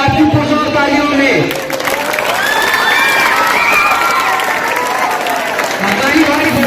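Loud crowd applause and cheering at a school mushaira, sustained clapping with children shouting and a voice over a microphone running through it.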